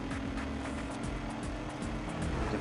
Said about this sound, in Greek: Ακούω πολλούς κινητήρες από πίσω.